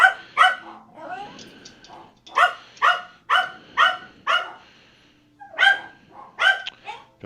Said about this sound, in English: I don't know if he's barking because somebody's here